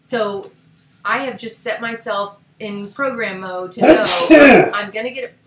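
A single sharp sneeze bursts out partway through a person speaking on a team phone call, loud and close amid continuous talk.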